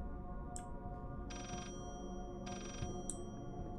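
A telephone rings in the psychological horror game Layers of Fear: two long electronic ring bursts separated by a pause, with brief high chimes before and after, all over a low, droning ambient background and no voices.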